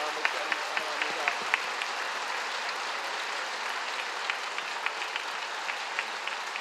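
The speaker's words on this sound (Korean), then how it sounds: "큰 박수로 환영해 모시도록 하겠습니다" Church congregation at a Korean Pentecostal Wednesday service clapping warmly to welcome the senior pastor, a continuous, even wash of applause from a large hall with a few sharper individual claps standing out.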